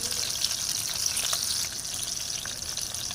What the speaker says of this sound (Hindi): हल्का सा इसे फ्राई करेंगे, इसमें 1 मिनट तक फ्राई करेंगे।